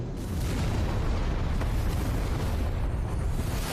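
A deep, rumbling explosion in an anime series, Thai-dubbed, roars continuously with heavy low-end weight, sustained and loud throughout with no voices.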